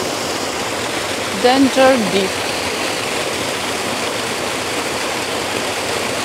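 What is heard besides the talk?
small waterfall and mountain stream flowing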